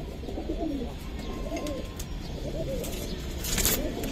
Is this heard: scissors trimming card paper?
no